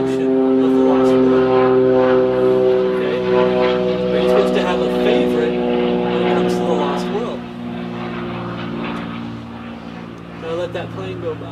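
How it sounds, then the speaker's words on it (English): Propeller airplane droning overhead, a loud, steady, strongly tonal engine hum that holds across the whole stretch and slowly shifts pitch as it passes, with faint birdsong around it. "That plane go by"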